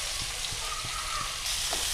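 Curry leaves and chopped onions hitting hot oil for a crab roast, a steady close sizzle with faint stirring taps underneath.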